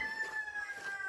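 A rooster crows in the distance at dawn on a farm, a single drawn-out call over faint outdoor background noise.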